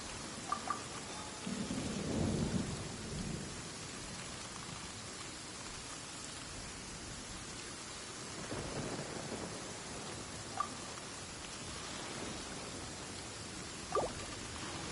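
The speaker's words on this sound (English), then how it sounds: "Taking a stroll in the middle of a downpour certainly rouses the spirit." Heavy downpour from a rainstorm in the Genshin Impact game, a steady dense hiss of rain filling the scene, with low rumbles of thunder around two and nine seconds and a few brief sharper taps.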